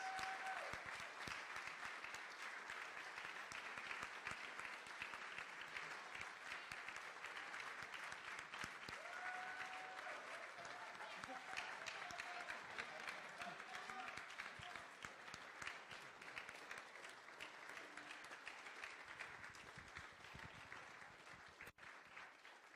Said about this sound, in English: Let's give a round of applause to all of you